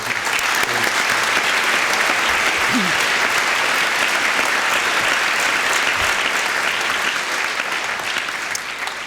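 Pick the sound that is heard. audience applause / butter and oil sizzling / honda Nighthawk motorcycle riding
audience applause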